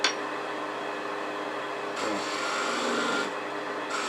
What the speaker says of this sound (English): A couple little V grooves with my skew.